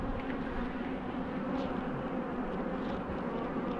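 Honeybees in an open hive buzzing as a dense, continuous drone, close and steady with no talking.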